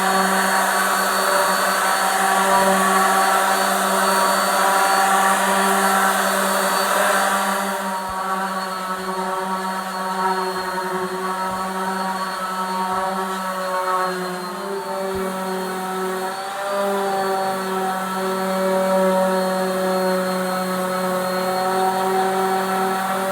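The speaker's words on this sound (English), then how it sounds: "Alright, so let's sand with 150 grit." A wooden cutting board is sanded with 150 grit sandpaper under a steady, loud motor whine that runs almost unbroken, dipping slightly partway through with faint scratchy grinding beneath.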